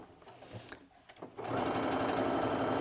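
Someone talks briefly over quiet handling sounds before a sewing machine starts stitching a bag, running at a steady, fast, even rhythm close by.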